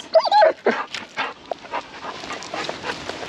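A reactive Doberman at a K9 handler boot camp squeaks and whimpers in a run of high, breathy cries and yips, close and fairly loud, fading into softer whines.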